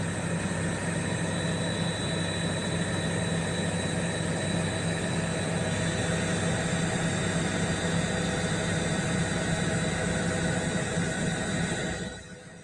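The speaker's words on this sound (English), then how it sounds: "We're seeing here the helicopter takeoff." A helicopter takes off, its engine and rotors making a steady, loud, broad roar with a constant hum that holds unchanged for several seconds before dropping away at the end.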